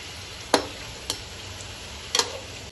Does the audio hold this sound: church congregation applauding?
no